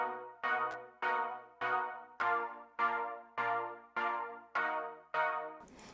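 The levitating keys synth preset from the Poptopia pack plays nine evenly spaced, bright chord stabs, each fading quickly before the next, with a clean rhythmic pulse and no voices.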